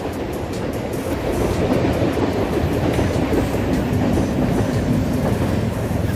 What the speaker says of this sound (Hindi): ट्रेन आ गया। Train train train. Wow train